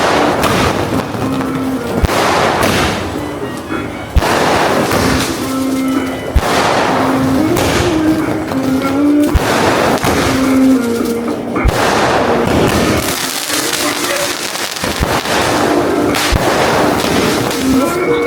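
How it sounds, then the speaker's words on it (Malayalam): New Year firecrackers burst outdoors in a loud, irregular series of sharp bangs and crackling pops, some spaced apart and some in quick clusters, with voices faintly audible between blasts. "ഇനി നമ്മൾ അടുത്തത് നമ്മളുടെ പടക്കം പൊട്ടീരാണ്."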